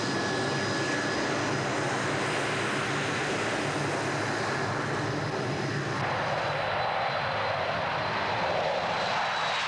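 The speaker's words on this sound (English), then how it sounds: "Most of the RAF's Buccaneers are ex-Royal Navy." A Blackburn Buccaneer jet, an ex-Royal Navy strike aircraft in RAF service, roars loudly and steadily throughout, a dense broadband engine rush with a thin high whine, its tone shifting and thinning partway through.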